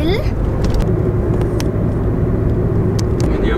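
Steady rumble of a car driving along a road on the way to the vet with a newly adopted cat aboard, a loud continuous engine and road drone filling the whole stretch.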